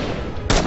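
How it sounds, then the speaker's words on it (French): Rising Storm 2 battle sounds: a steady wash of distant gunfire and rumbling, then a sudden loud blast of an explosion near the end that stays heavy. "On voit rien là, avec ces explosions."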